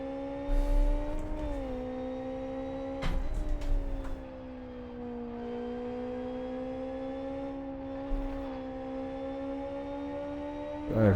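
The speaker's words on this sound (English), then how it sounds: "You can hear all the little scrapes and bumps as the car's running over the road." Race car engine in Live for Speed holding a steady tonal drone that wavers with throttle, punctuated by low thumps and scrapes as it runs over bumps in the road.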